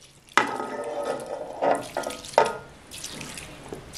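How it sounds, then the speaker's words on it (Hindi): Spiced masala water is poured from above over rice in a chicken dinner dish, a close, splashing pour with a few sharp bursts that settles into a softer trickle. "इस मसाले के वाले पानी को मैं इन चावलों पर ऊपर से यूं करके"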